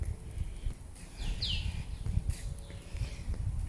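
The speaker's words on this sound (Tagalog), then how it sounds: "Puro ibon lang maririnig nyo rito." A single bird chirp rises briefly over steady low outdoor rumble in Brunei, with faint background noise throughout.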